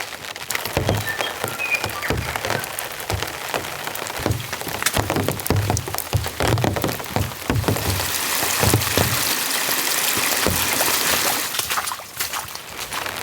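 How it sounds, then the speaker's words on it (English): Heavy rain and gusting wind pelt a camp on an exposed ridge during a rainstorm, a dense steady hiss broken by irregular loud pattering hits and crackles, close and without talk. "You can see the wind and the rain coming in."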